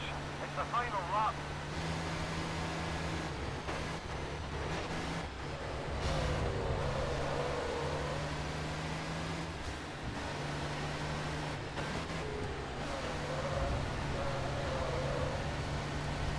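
Monster truck engines racing in TOCA Race Driver 3, a steady loud engine drone with rising and falling revs throughout, while a player talks over it.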